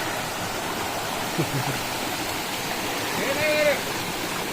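Water runs along a village irrigation channel in the Konkan countryside, a dense, steady rushing flow heard close up, with a couple of faint, brief tonal calls rising above it.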